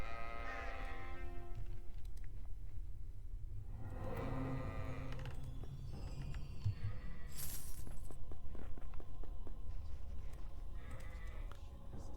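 Sheep bleating in the fantasy game Sacred Gold, several fairly close, wavering bleats over a steady ambient background, with no talking.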